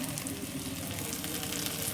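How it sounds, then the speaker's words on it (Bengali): Spices frying in a pan for chicken curry, a quiet, steady sizzle and crackle throughout, close and alone. "এবার মশলাগুলো দিয়ে দিতে হবে সব মশলা দিয়ে দিলাম"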